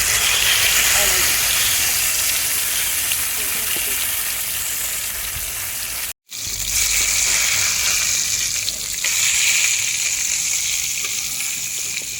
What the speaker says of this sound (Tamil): எண்ணெய் நல்லா சூடானதுக்கப்புறம் ஒரு கொத்து கறிவேப்பிலை ஆட் பண்ணுறோம்